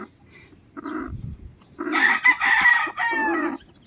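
Chickens make loud, close clucks and squawks in short bursts, with a crowing-like call in the middle, around a hen that has just hatched four chicks.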